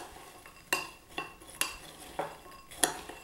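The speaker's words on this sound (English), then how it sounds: "Mix that in, stir it up until well blended." A spoon stirs canola oil into a mixture in a bowl, making about six sharp, spaced clinks against the bowl over quiet background.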